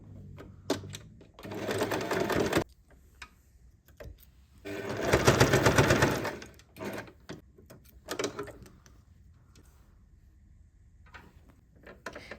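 Sewing machine top stitching fabric for a needle case, running in two loud sustained bursts with short pauses and softer mechanical clicks between, close up and without talk.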